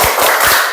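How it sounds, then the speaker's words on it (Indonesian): Students in a classroom doing the rhythmic 'tepuk semangat' cheer clap: a short burst of several sharp, loud group claps in quick rhythm, close by. "Tepuk semangat."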